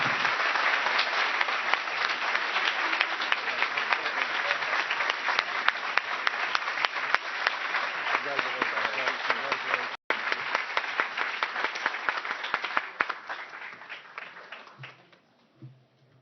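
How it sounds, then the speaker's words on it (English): A large audience claps and applauds continuously after a grand prize winner is announced at a 2016 real estate technology event, a dense loud wash of hands that fades out toward the end. "You can keep clapping."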